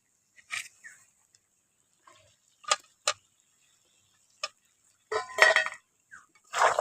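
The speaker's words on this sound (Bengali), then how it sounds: "আলুটা দিয়ে ভালো করে একসঙ্গে মিশিয়ে নিচ্ছি।" Fried potatoes being tipped into a pan of browned chicken and stirred through, making a few scattered metallic clinks and scrapes of a utensil against the pan, brief and close with quiet gaps between.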